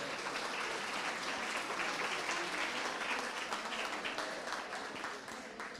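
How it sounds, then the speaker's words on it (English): Applause from the audience at a camogie team-of-the-year awards ceremony, a continuous even patter of many hands heard from a distance, sustained and tapering off slightly at the end. "Give them a round of applause, please."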